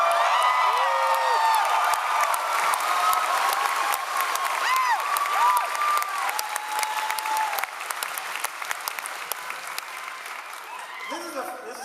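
A live audience at a w00tstock variety show erupts in sustained applause, cheering and whoops after a song about particle physics, with the loud clapping continuing throughout and scattered whistles rising above it.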